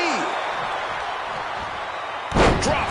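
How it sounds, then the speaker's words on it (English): A DDT impact in the WWE 2K25 video game lands as a single sharp slam near the end, following a steady arena crowd murmur and brief commentary-like voice. "Caught with a DDT."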